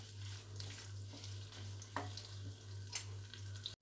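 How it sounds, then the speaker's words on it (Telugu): Cumin seeds and dried red chillies fry in oil on a low flame for a tamarind coriander spice powder, giving a quiet, continuous sizzle with occasional stirring scrapes over a low steady hum. "ఆయిల్లో వేసుకొని బాగా ఇలా ఫ్రై చేసుకుందాము సిమ్లో పెట్టుకొని."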